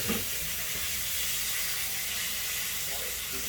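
Steady broadband hiss and crackle of food frying in a pan, continuous and fairly loud throughout, with faint low clatter underneath.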